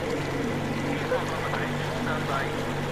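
A boat engine in the video game Metro Exodus runs with a steady, low, continuous drone throughout, with no talk over it.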